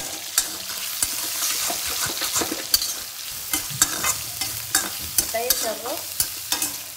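A sabzi of peas, soybean and potato is stir-fried in oil, its close sizzle punctuated by regular metallic spoon scrapes and taps, while a voice speaks briefly partway through.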